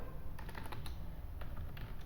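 Router configuration commands are tapped out on a computer keyboard in a quick run of light, close key clicks over a steady faint hum, with no speech.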